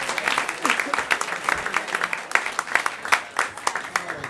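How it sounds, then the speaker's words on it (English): Comedy club crowd in New York clapping for the performers, a lively burst of many hands with uneven peaks, fairly close and loud throughout. "clap for us"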